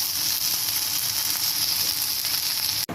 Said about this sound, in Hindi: बस अच्छे से गर्म कर लूँगी, थोड़ा सा भून लूँगी